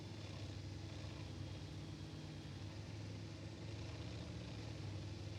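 Steady, droning Daimler-Benz tank engine in World of Tanks, a continuous low hum with no breaks, heard alone at moderate volume.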